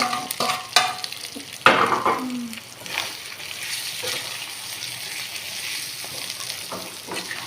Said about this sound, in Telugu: ఇదంతా కలిసే వరకు కలుపుకోవాలి.